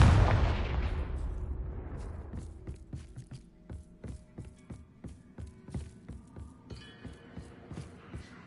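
A Confringo fire blast spell in Hogwarts Legacy sets off a loud, booming explosion that fades over about two seconds. It is followed by a rapid series of sharp clinking and crackling impacts.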